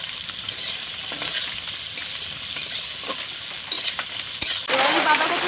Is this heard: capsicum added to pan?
yes